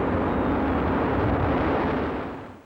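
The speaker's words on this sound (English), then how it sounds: "First stage ignition, liftoff." Ariane rocket ignition and liftoff carrying the AUSSAT-3 satellite from Guyana in 1987: a dense, continuous roar that stays loud throughout and fades slightly at the end, with no talk.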